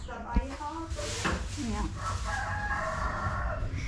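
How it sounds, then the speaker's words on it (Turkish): A rooster crows loudly nearby in a long drawn-out call in a German village, with other voices and farmyard chatter around it. "Şuradan horoz sesi geliyor."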